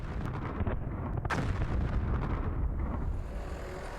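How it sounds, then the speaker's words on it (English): Small explosive charges blast rock at an Arctic dinosaur fossil dig, giving a heavy, close boom with a rumble that rolls on and slowly fades over several seconds. "begin with a set of relatively small charges. Fire in the hole!"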